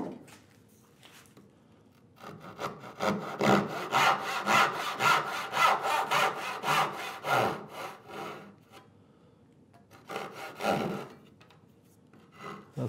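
A hand saw cuts wood for a workbench drawer near a shoulder line, making close, rhythmic back-and-forth rasping strokes in a steady run of about a dozen, then a short pause and a few more strokes.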